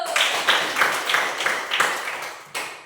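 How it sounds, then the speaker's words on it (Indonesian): A group of children clap their hands together in a classroom, a run of quick bright bursts of rhythmic claps repeating roughly every third of a second, close and lively, with a final sharp clap at the end. "Oke, tepuk tangan buat kita dulu."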